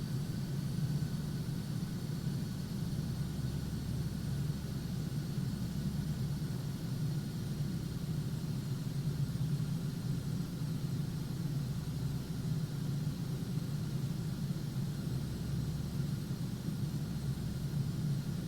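Cessna Citation Sovereign+ jet engines on approach in a flight simulator, a steady low droning roar with a faint whine, continuous and unchanging.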